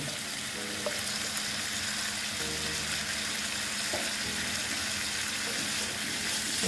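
Snake gourd (chichinga) pieces sizzle and fry steadily in a hot pan, a continuous bright crackle with a few soft knocks and stirring movements, no talking.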